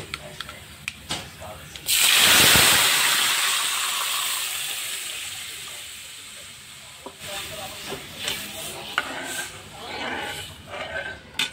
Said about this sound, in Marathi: अशी चांगली कडक फोडणी लागेल आपली